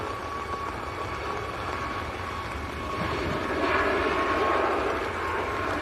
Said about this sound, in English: little Logan Air Embraer taxiing out on the other side as well.